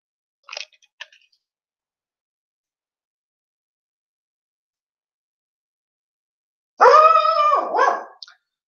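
A dog named Teddy gives a short clipped bark or two, then after a long silence lets out a louder, drawn-out bark-howl that wavers for about a second and a half, close by and with no talking over it.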